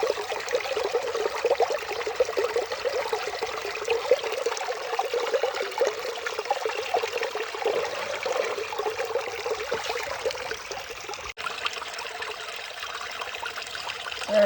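Water runs steadily through a gold sluice box outdoors in the hills, giving a continuous close rushing and splashing wash with no breaks.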